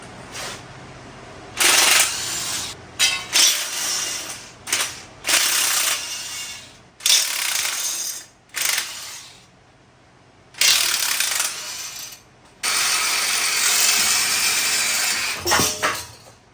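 Hand tools work the manifolds off a V8 engine in a tractor project, with repeated bursts of close ratcheting and clicking separated by short quiet pauses.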